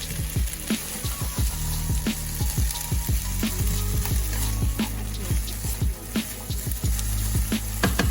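Potatoes frying in a pan on the stove for a breakfast casserole, a steady close sizzle with crackling and spatter, joined by clinks and scraping of stirring.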